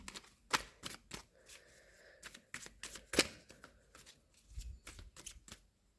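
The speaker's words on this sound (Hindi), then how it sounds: "अभी मैं इन कार्ड्स को क्लैरिफाई करती हूँ" Tarot cards being shuffled nearby, a series of crisp riffles and soft slaps in uneven bursts, with no talking.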